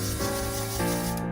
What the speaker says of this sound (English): So first I'm just going to take some hairspray